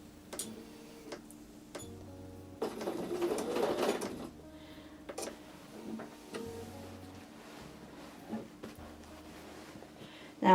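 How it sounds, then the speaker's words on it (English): A domestic sewing machine stitches in the ditch along a quilted Christmas table runner. It runs in several short bursts of whirring with pauses between them, and one longer, louder run of stitching falls near the middle. "now essentially I am stitching in the ditch"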